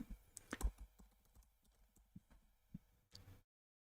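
Faint, irregular clicking of keys being typed on a computer keyboard, a few sharper taps standing out before it stops abruptly.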